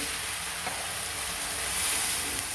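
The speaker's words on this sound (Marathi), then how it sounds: "आपण त्याच्यामध्ये अजून एक ग्लास पाणी ओतून घेणार आहोत" Water poured into a pan of sizzling onion-garlic masala with turmeric and salt for a fish curry gives a loud, continuous, hissing sizzle close up, steady from start to finish with no speech.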